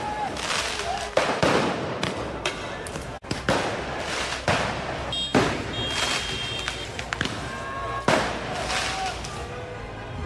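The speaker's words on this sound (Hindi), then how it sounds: "पटाखों को हथियार बनाकर पुलिस पर अटैक किया जा रहा है।" Firecrackers bursting in a violent street riot in Paris after a PSG victory, with repeated sharp cracks and thuds at irregular intervals over a dense, loud crowd roar and scattered voices.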